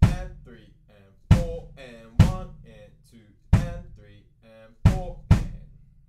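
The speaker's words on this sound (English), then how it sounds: "we're going to look at the kick drum pattern. Now it's a 2-bar loop" A drum kit kick drum plays a two-bar loop pattern, several solid thumps at uneven spacing with short decaying tails, close and clear with no talk over it.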